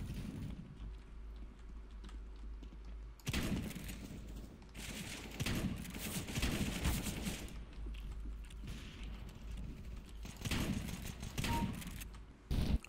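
Shotgun blasts in the PC battle-royale game H1Z1, several loud, sharp shots spaced a few seconds apart over steady in-game background noise.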